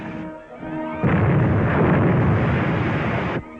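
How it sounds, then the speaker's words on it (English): A 3-inch artillery shell fired and bursting in a 1945 film, a loud sustained roaring blast lasting over two seconds after a brief lead-in, then cutting off abruptly. "That's a 3-inch shell they're firing at us."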